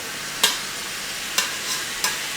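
Squid stir-frying in a pan over raised heat, a steady sizzle broken by a few sharp scraping stir strokes, close and loud with no talk.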